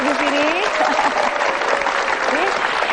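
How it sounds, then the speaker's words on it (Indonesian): Studio audience applauding steadily throughout at an Indonesian motivational talk show, a dense wash of claps with a voice and sliding tones briefly audible over it. "Tepuk tangan dulu dong"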